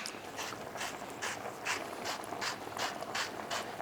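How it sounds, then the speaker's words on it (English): A slow salt grinder turns in a demonstration kitchen, giving a soft, evenly spaced ratcheting crunch, about eight clicks, fairly quiet and close. "I'm going to have to tell him to get a better salt grinder. It's a bit slow"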